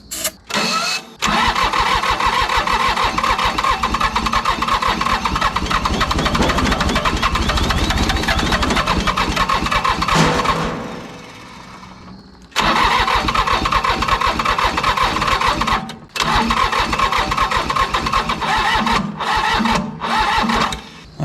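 A Mitsubishi diesel engine on a commercial mower, left in a field for 20 years, cranks on starting fluid in long, rapid, rhythmic bursts, stopping briefly between attempts, loud and close with no talking.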